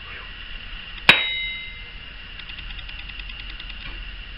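A knife blade chops once into 1/8 inch sheet metal with a single sharp, loud metallic clang that rings on as a steady high tone, then fades over several seconds.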